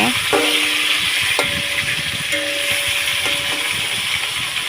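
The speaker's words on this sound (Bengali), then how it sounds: "দেখুন আমার ভাজা প্রায় শেষের দিক, আমি এখন উঠিয়ে নেব।" Steady, loud hiss of rohu fish frying in oil, with a few metallic clinks and taps of a utensil against the pan.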